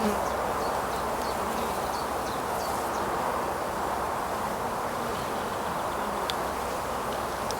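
Honeybees swarm around an opened beehive during a colony split, a dense, continuous close buzzing hum that fills the whole stretch with no one speaking.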